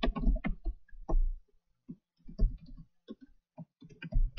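Typing on a computer keyboard: quiet, irregular clicks and soft key thuds in short clusters, separated by brief pauses.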